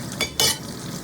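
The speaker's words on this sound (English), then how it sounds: "The onions are getting caramelized." Onions caramelizing in a frying pan give a bright, hissing sizzle with two short stirring bursts, the second louder, over a steady background crackle.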